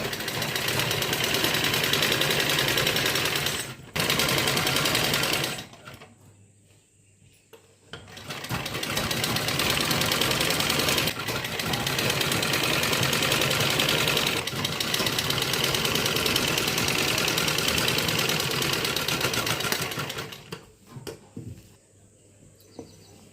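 A sewing machine runs steadily, stitching a blouse, with a continuous mechanical whirr broken by a few short pauses and a longer stop near the end.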